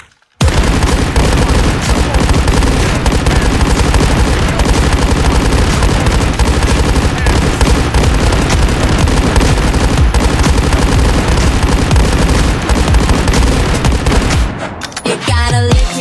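Sustained automatic gunfire from the Delta Force video game, a loud, dense, unbroken barrage of rapid shots lasting about fourteen seconds before cutting off abruptly, with no voices over it.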